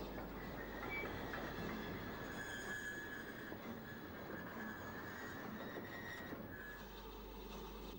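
A British Railways 9F heavy steam freight locomotive, the 140-ton 2-10-0 design of 1954, rolls past with a steady rumble, continuous wheel and rail noise and faint squealing, and no voices.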